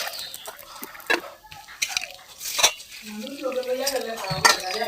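A pot of pumpkin and fish head curry is stirred, with clattering spoon-on-pot knocks and scrapes in an irregular rhythm, loud and close, plus some background voices.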